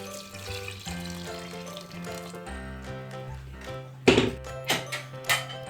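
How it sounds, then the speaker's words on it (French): A litre of water is poured into a pot of harira soup, a steady rushing pour that later breaks into a few splashing surges, all under background music. "vous rincez votre blender, mais vous gardez l'eau qui est à l'intérieur et vous mettez 1 litre d'eau"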